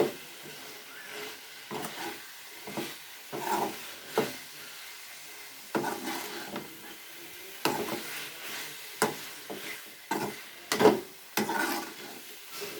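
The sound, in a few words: chili powder masala frying and being stirred for mango egg curry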